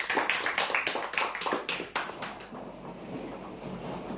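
An audience claps for a prize winner at a lottery-style draw, with a brisk burst of clapping that fades after about two seconds into a faint, hollow murmur.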